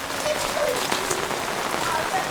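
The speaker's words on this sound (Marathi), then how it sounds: "पाऊस पडला म्हणून येणार नव्हतं पण पाऊस बघा किती आहे" Heavy monsoon rain in Konkan farmland pours steadily onto surfaces, a dense hiss of drops close by, with faint voices in the background.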